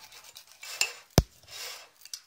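A spoon stirs mug cake batter inside a mug, giving soft scraping rubs broken by a few sharp clinks against the ceramic, close and fairly quiet.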